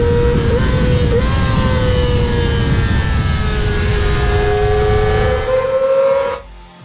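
A Kawasaki ZX-25R four-cylinder 250cc sport motorcycle revs hard toward its 17,000 RPM redline, a loud, close, continuous high-pitched scream that rises and holds before cutting off abruptly near the end.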